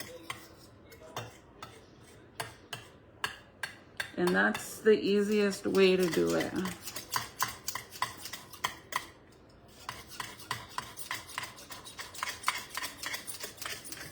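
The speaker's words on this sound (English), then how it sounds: "I like to move the chili around so I can make sure I'm chopping it all evenly." Dense run of sharp metallic clicks and taps as a fork chops chili against a plate, steady and close, with a brief stretch of talk in the middle before the rapid tapping resumes.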